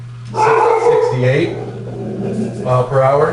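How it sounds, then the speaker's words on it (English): A dog barks and yips close by over a man's speech, with short sharp bursts overlapping the talk against a constant low electrical hum. "sorry about the dog."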